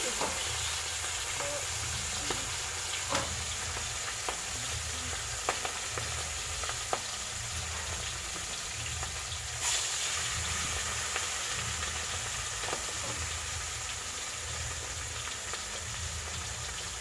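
Food frying in a pan during Saraswati Puja cooking in a Bengali home, a steady sizzle heard from a distance with faint scattered clinks, continuous and even, no voices.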